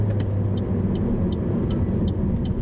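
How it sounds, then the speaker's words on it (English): Interior cabin rumble of a Holden Barina CD hatch with a 1.6 engine and 5-speed manual being driven, a steady low road and engine drone with faint regular ticking above it. "I'm driving this little Holden Barina CD hatch at the moment"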